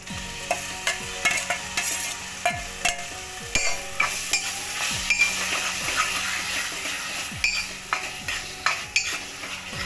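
Pre-roasted eggplant is stir-fried with salt for baingan bharta, giving a steady sizzle broken by frequent sharp spatula scrapes and knocks against the pan in an uneven rhythm, close and clear, with no talking.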